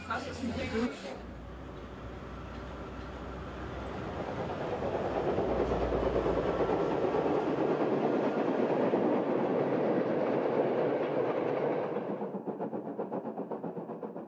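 A passenger train rumbles steadily along the tracks with a rhythmic clatter, loud and close, fading slightly at the end.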